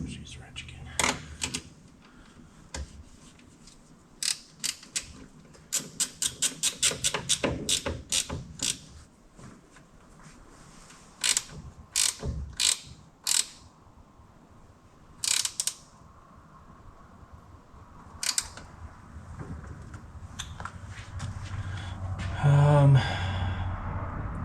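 A ratchet wrench clicking in short, rapid bursts while working on a 1966 Mustang barn find, close by, with pauses between bursts and audible sighs and breathing from the person working.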